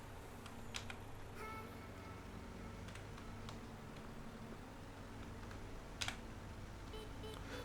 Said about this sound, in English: Use the keyboard to move around when you're in the Giants editor and everything.